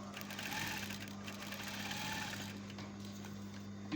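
A sewing machine stitches fabric and lining with a steady, continuous mechanical whir and a low motor hum that runs unbroken from start to finish at close range.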